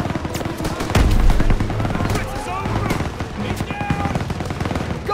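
Rapid MG-42 machine gun fire rattles in a Call of Duty: WWII battle scene, dense bursts with a heavy boom near the start, continuing under shouted voices and battlefield clatter.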